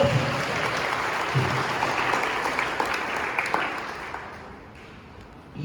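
Students at a school orientation day give their parents a long, dense round of applause, steady and loud before thinning out toward the end.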